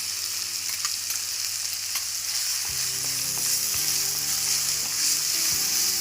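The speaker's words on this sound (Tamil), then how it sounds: "இது நல்லா வதங்கட்டும்" Onion and tomato sizzle and sauté in a pan for a crab gravy, a steady close hiss with occasional stirring scrapes and a low hum in the background, no speech.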